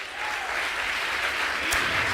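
A congregation at a Spanish-language sermon applauds together, a sustained wash of clapping from a crowd in a church hall that holds steady for about two seconds.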